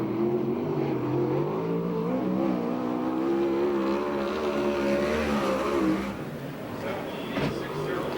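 USAC/CRA sprint car laps the dirt track at Perris, California, engine howling loudly and rising and falling in pitch through the corners before dropping away, with a commentator talking over it.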